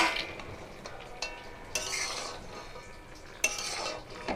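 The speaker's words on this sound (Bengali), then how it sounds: "বড়িগুলো দিয়ে খুব ভালো করে নাড়াচাড়া করব।" Lentil dumplings being stirred into cooked spinach in a pot, giving a few soft scrapes and clinks of a utensil against the metal over low kitchen noise, with no talk.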